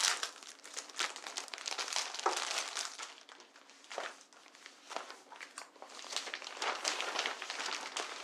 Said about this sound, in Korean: 김장 비닐을 넓게 펴서 침대에 붙여줄 거예요